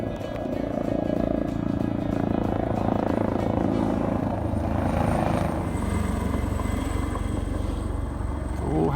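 A rescue helicopter hovers overhead on a hiking trail at O'Melveny Park in California, its continuous rotor thump and engine drone loud and steady throughout with no speech.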